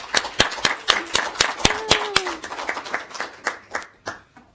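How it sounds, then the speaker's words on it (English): Scattered hand clapping from a small audience at a school education board meeting, a few seconds of uneven claps that thin out and fade, with no talk over it. "And with that, we can give you applause."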